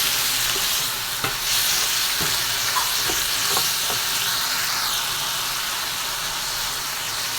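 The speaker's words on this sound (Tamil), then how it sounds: "நல்லா கிண்டி விட்டுக்குவோம்" Goat intestine chukka fries in a pan with chilli powder, a loud, steady sizzle and hiss running throughout while a spoon scrapes and stirs through it in repeated strokes, with no talking.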